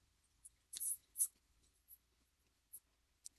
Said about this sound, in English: where's that Sharpie? Right here. So I'm going to write my name on there.